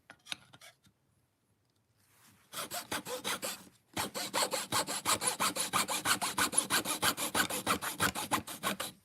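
A few faint scrapes, a pause, then a handsaw cuts through a small piece of wood in quick, rhythmic back-and-forth strokes, close and steady.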